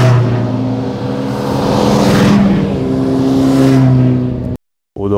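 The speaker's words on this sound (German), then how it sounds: "Nur da kommt schon mal ein Motorrad zwischendurch." A motorcycle on the Grimsel Pass in the Swiss Alps roars past close by, its engine note rising and falling with a loud, sustained drone before cutting off abruptly near the end.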